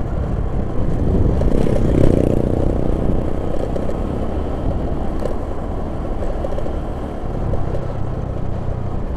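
A vehicle drives along a straight stretch of the central Sumatra highway near Nagari Tanjung Lolo. Its engine holds a steady, loud rumble with road noise, swelling briefly early on as it accelerates, and no one speaks.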